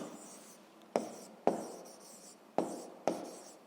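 Handwriting on paper, a close, soft continuous scratching with four sharp taps of pen strokes spaced through it.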